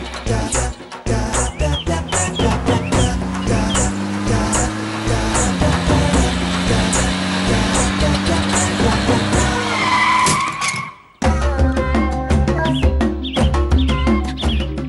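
A vehicle skids to a sudden halt across another's path in a Tamil TV serial scene; loud tire squeal over engine noise with dramatic background music throughout, cutting briefly near the end.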